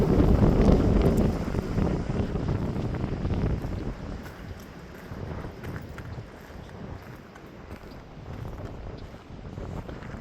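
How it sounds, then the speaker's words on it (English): Strong gusts of 50 to 60 mph wind whip across an open stormy area near outflow rain, a heavy broadband roar that swells loudest at first and then keeps blowing steadily without a break. "these winds are just going to keep whipping through here"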